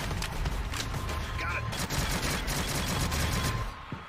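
Rapid SMG gunfire in the shooter game Shadowgun Legends rattles in continuous bursts during a PvP match, dense and loud throughout before cutting off near the end.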